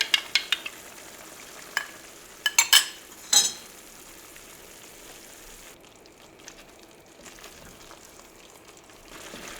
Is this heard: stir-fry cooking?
yes